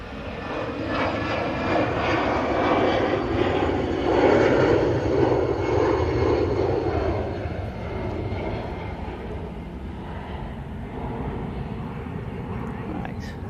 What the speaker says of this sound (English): Emirates is now entering the active runway.